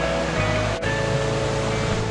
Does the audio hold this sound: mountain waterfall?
yes